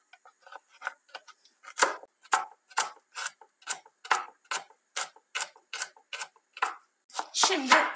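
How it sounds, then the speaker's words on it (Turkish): Knife dicing quartered, peeled carrots into cubes on a cutting board, a steady run of sharp, evenly spaced chops repeating about twice a second, close and clear with no talking. "Bunları da 4'e bölüyorum ve küp küp doğrayacağım."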